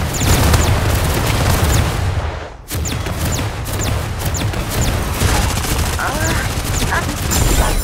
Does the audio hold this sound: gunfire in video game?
yes